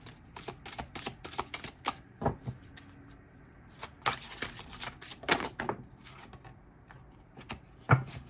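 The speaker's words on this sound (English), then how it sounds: "Thoroughly shuffle these cards." Tarot cards being shuffled by hand, a series of crisp riffling and tapping bursts at irregular intervals with quiet pauses between, close and fairly soft.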